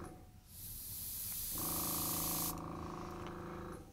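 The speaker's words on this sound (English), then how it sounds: "just hold the airbrush up and very slowly just spray a light glow around" A steady pressurized hiss of an airbrush spraying, running continuously at close range, with a lower humming tone joining partway through.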